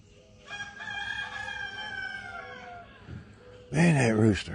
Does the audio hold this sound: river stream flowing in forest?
no